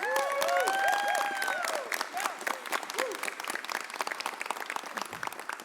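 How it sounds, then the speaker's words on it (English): A crowd at a mayor's press conference applauds in a dense, sustained wash of clapping, with a few whoops and shouts early on and the applause continuing steadily throughout. "Give them a huge round of applause."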